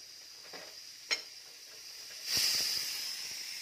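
A pressure cooker's second whistle during chicken curry cooking: bright steam hiss rises midway and holds at a steady level, over a soft background of light stirring and a single sharp tap.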